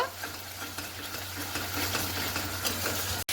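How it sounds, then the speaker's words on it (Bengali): Spice masala cooks down with a little sugar in a pan for a doi katla fish curry, a constant sizzle broken by the scrape and shuffle of a spatula stirring, heard up close with no talking and one brief dropout near the end. "চিনি দিয়ে ভালো করে নেড়ে নিচ্ছি পাঁচ থেকে ছ মিনিট আমি একটু কষে নেব"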